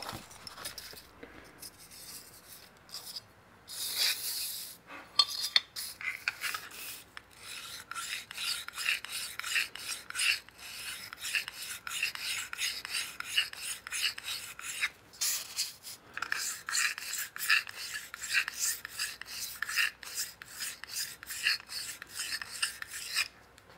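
Wood is sanded by hand with 220-grit sandpaper in a woodworking shop, a close, dry rasping with steady back-and-forth strokes that run in long bursts with brief pauses.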